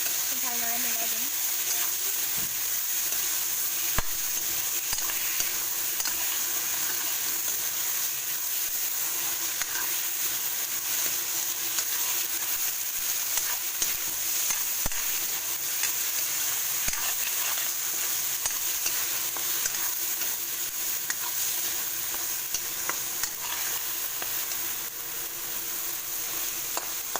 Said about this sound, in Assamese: ভালদৰে মিলাই দিম।